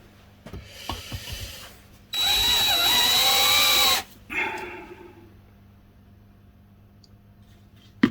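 A 4.2mm bit in a power drill bores into metal for a car door bottom patch repair, a loud whining burst of about two seconds, preceded by light handling clicks and followed by a short rasp.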